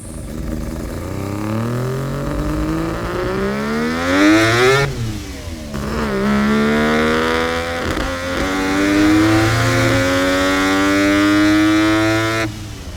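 A Mazda Capella with a three-rotor 20B peripheral-port rotary engine of about 350 to 400 horsepower revs repeatedly and loudly up close, its buzzing note climbing and dropping through several throttle blips.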